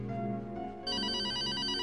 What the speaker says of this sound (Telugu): I think it's your phone.